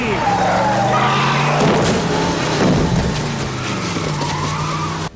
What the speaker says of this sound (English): he gets hit by a car